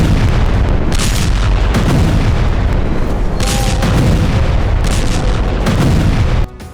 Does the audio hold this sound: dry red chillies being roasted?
no